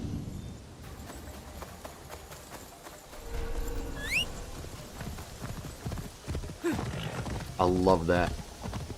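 Rhythmic clip-clop of horse hooves galloping steadily throughout in the video game Assassin's Creed Shadows, with a brief whinny-like squeal and someone talking over it.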